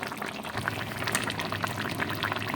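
Kohlrabi curry bubbling and simmering in a pan with cilantro leaves while a little mustard oil is poured in, giving a continuous liquid hiss and bubbling at close range.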